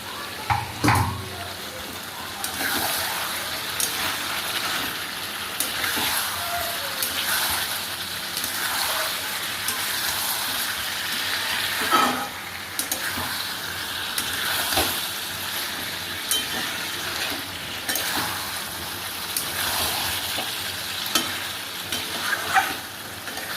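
Chicken curry with green chillies and fried potatoes cooking in a pan, a soft crackling sizzle with intermittent stirring scrapes and clinks, fairly faint throughout, with no clear talk.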